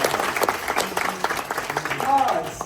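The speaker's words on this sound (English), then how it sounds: "can we please all once again give them a big round of applause?" An indoor crowd at a community event applauds in a dense, steady round of clapping that lasts throughout, with voices mixed in underneath.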